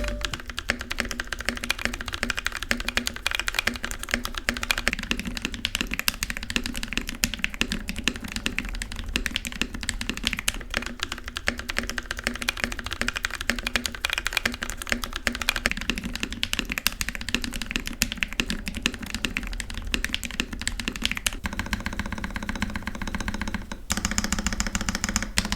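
Tactile switches on NK87 mechanical keyboards are typed on at a steady quick pace. The dense clacky keystrokes run close and loud throughout, with a brief change in tone near the end, and no one speaks.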